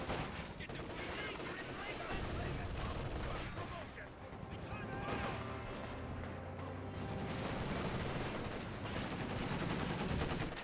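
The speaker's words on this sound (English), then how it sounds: "Maxim firing away." A Maxim machine gun fires in Company of Heroes 2 amid a busy battlefield: steady, fairly faint streams of automatic fire layered with other shots and battle noise, under continuous commentary.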